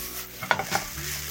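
Cup ramen fried rice being stir-fried in a pan, a soft sizzle with a few quick scraping stirs of a utensil against the pan, close and brief.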